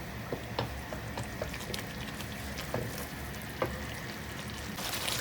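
Tomato sauce for a pan-made chicken pizza, sweetened with a spoonful of sugar, simmers and bubbles softly in a pan while being stirred, with faint scattered scraping clicks throughout and no talking.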